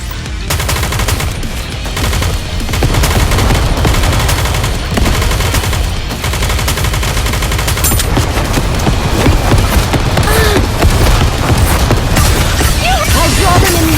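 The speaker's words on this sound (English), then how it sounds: "Some firecrackers ought to do the trick, don't you think?" Rapid crackling bursts of firecrackers in the action video game Goddess of Victory: NIKKE, dense loud popping that continues almost without pause over game sounds.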